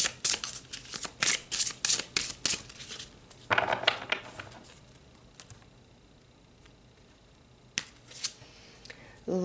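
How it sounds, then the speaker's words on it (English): Tarot cards being shuffled close by in a quiet room: quick bursts of papery riffling and soft card slaps, then a pause, then a few more flicks. "So let's pull some more cards."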